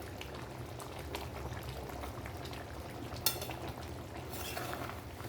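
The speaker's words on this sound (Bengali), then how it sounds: "এবার এটা সেদ্ধ হবে, হয়ে গেলে নামিয়ে নেব।" A pot of vegetable curry with a little ghee simmers at a soft, steady boil, bubbling quietly with one brief clink of a utensil midway.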